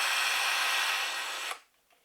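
A drill motor driving a fan attachment whirs loud and steady, then cuts off abruptly and spins down into near silence.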